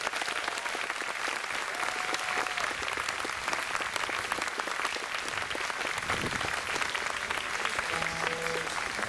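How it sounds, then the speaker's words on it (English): Audience applause at a folk concert, a steady wash of clapping from a large crowd that continues throughout with no letup. "Can you give all of them a round of applause,"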